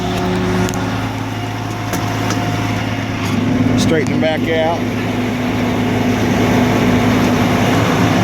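A semi truck tractor engine idles with a steady low rumble while the rig maneuvers to load a 40 ft container onto a 440 Landoll trailer; someone talks over it throughout.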